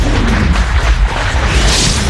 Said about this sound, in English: the result of a bomb explosion